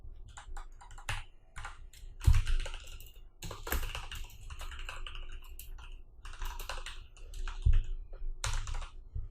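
Computer keyboard typing while writing a JavaScript alert in a scripts.js file, quick irregular clusters of close, crisp key clicks with short pauses and a few heavier thumps, with no talking.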